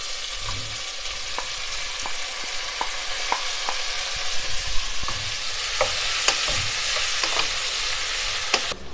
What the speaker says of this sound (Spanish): vamos a agregar nuestra calabaza.